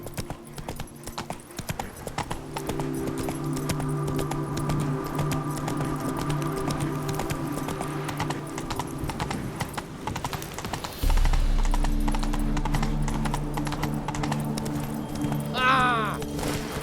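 Horse hooves clip-clop in a steady rhythm in The Witcher 3 video game, moderately loud amid game ambience, with a brief whinny near the end.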